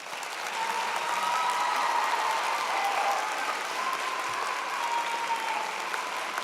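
Sustained applause from a large audience at a fall graduation convocation, a dense steady wash of clapping that swells in quickly and holds evenly loud throughout.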